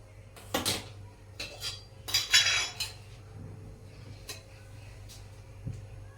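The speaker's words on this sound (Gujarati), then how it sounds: "હવે આપણે ગેસ ચાલુ કરી અને કઢાઈ મૂકી." A kadai is set on a gas stove before cooking paneer bhurji. Several close metallic clanks and clatters come in short bursts, then a quieter stretch with a few lighter taps.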